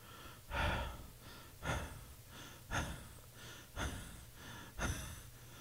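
A person's voice imitates gasping for air, recalling breathlessness after mowing the lawn: five sharp, heavy in-breaths at roughly one-second intervals, close and fairly quiet, with no words spoken.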